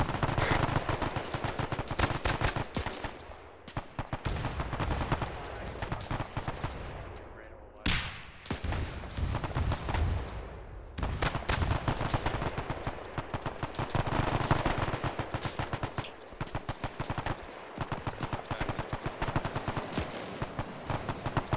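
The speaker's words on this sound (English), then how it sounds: "Artillery coming in, hold your position, artillery coming in." Heavy gunfire and artillery rage in the World War II shooter Task Force Athena at the Battle of Tarawa: rapid machine-gun bursts and booming impacts crackle almost without pause, loud and dense, with occasional radio voices beneath.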